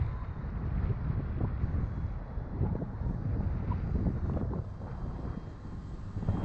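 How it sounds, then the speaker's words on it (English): Strong wind buffets the microphone outdoors at a field where a foam radio-control plane is flying, a loud continuous low roar with gusting swells and no talk over it. "that wind is like a little strong."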